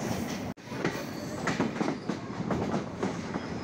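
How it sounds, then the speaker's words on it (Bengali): The 12-coach Rupshi Bangla Express 828 rolls into Benapole station with a steady, loud rumble of wheels and a clickety-clack rhythm. A brief dropout comes early on; no one speaks. "আমাদের রূপসী বাংলা এক্সপ্রেস 828 নম্বর প্রথমবারের মতন বেনাপোল স্টেশনে ঢুকতে চলেছে"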